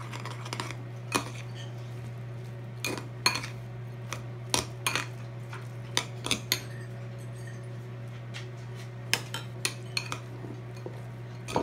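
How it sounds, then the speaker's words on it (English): A fork or spoon clinks and scrapes against a bowl while sauce is mixed into a raw burrito filling, making sharp irregular taps spread over a steady low hum. "I'll mix a little sauce in with it."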